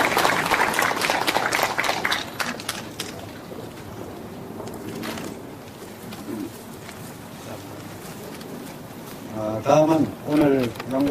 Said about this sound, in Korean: 수상자 이재복 교수님께 다시 한번 축하의 박수 부탁드리겠습니다